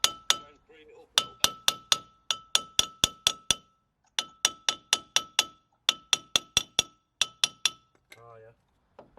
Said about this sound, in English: I hit it in the centre, in between the wheel studs.